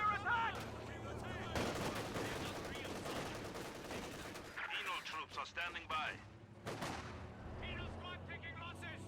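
Battle gunfire in Company of Heroes 2, with conscript and penal infantry rifles firing on enemy troops, scattered shots and bursts mixed with distant booms under a commentator's voice.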